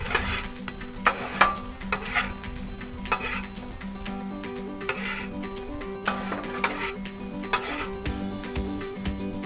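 Fried rice cooking on a Blackstone griddle with a splash of sesame oil, a steady sizzle under repeated sharp metal spatula clacks and scrapes in an irregular rhythm, no talking heard.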